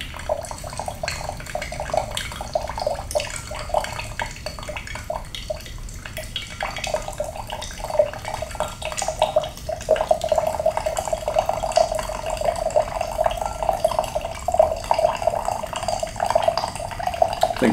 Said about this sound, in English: We're going to pour the rest of this water in here without making a mess